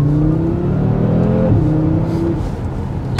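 A Cupra Formentor VZ5 engine revs hard through a 0 to 50 acceleration, with rising harmonic tones climbing and shifting as the rpm builds. The sound is loud and continuous, heard from inside the car, with no talk over it.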